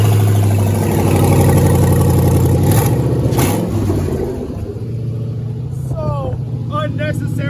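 A very loud car engine revs and rumbles continuously up close, surging and settling as it runs, while someone talks over it.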